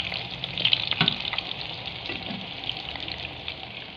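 Tempeh slices frying in hot oil for a tempeh penyet meal, a steady close crackling sizzle with occasional stirring, no voices over it.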